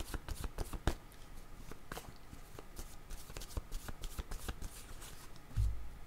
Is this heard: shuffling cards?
yes